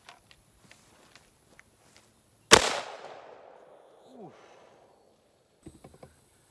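A single loud shotgun blast of 3-inch #1 buckshot hits a satellite dish, followed by a decaying ring and a few faint clicks and thumps before and after.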